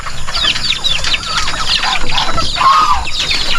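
Turkeys, chickens and geese kept indoors on a Filipino backyard farm make a dense, overlapping chorus of clucks and squawks, fairly close and steady throughout with no talk.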